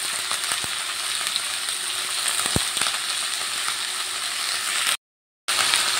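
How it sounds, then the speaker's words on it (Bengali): Chopped beans frying in a pan for a spring onion stalk dish, a steady close sizzle with occasional sharp clicks of stirring, cut off briefly by a gap near the end, with no talk. "দিয়ে ভালো করে ভেজে নেব। এবার দিয়ে দেবো কেটে রাখা শিমগুলো।"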